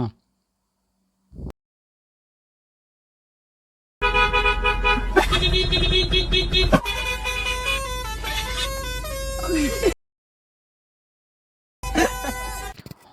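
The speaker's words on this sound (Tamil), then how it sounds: "ஹாரன் அடிங்கண்ணா" Loud car horn honks nearby on a drive in Kerala: a long sustained blast, then a short toot after a pause, with silence around them.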